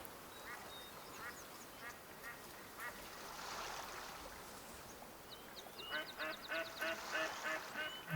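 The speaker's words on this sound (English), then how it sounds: "A lot of wild ducks." Wild ducks quack in a marsh in the hunting game Way of the Hunter, a scattered chorus of calls at moderate distance over steady ambient background, growing busier toward the end.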